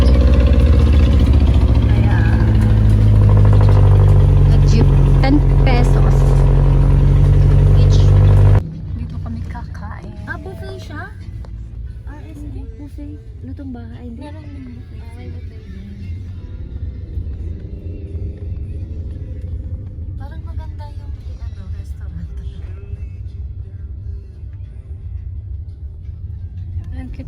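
A jeepney engine runs loudly for the first eight seconds as a heavy low rumble, then drops to a quieter steady hum for the rest of the ride while people chat over it.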